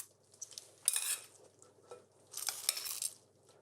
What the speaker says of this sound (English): I'm going to give them a good toss.